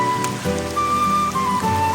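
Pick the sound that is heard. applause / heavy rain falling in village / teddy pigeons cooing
heavy rain falling in village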